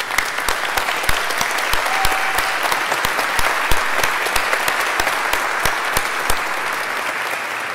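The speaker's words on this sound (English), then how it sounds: "Let's give them a round of applause." Audience at a spring graduate commencement ceremony applauds steadily, a dense, even wash of many hands clapping close and loud with a few sharp claps standing out, with no talk over it.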